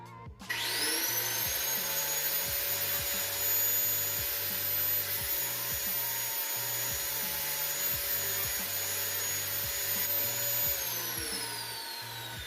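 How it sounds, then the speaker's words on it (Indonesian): An angle grinder whines at high pitch while grinding down a motorcycle brake caliper bracket on a Vario 125, running steadily near and loud for most of the stretch before spinning down at the end. "mau tak gerinda lagi bagian sini"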